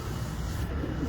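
Low, soft pigeon coos repeat through a steady murmur of many birds, close and continuous, with no voices among them.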